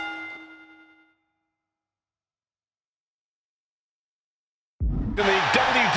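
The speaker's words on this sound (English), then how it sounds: "Bell rings." A boxing-ring bell clangs once in WWE 2K25 and rings out loudly before decaying into silence, followed a few seconds later by a sudden burst of loud arena crowd noise.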